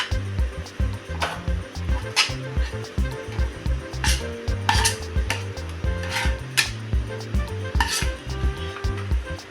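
Hot milk sweet made with roasted gram and milk is scraped from a pan into an oiled tray, with repeated metallic scrapes and clinks of a utensil under a voice talking.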